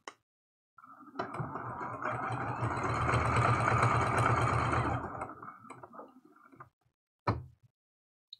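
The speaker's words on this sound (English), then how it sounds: "we're just going to sew all the way around" A home sewing machine stitches around a quilted heart wreath in a single sustained run of several seconds, whirring steadily and then slowing, followed by a short isolated clack near the end.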